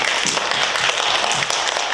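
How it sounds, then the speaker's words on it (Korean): A church congregation applauds their pastor after the sermon, a continuous bright wash of many hands clapping together for a couple of seconds. "먼저 오늘 귀한 말씀 전해주신 이은철 목사님께 우리 같이 박수 한번 쳐주십시오"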